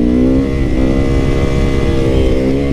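A Yamaha R6 track motorcycle engine revs loud and close, holding a steady, high-pitched buzzing drone with slight rises and dips in pitch throughout.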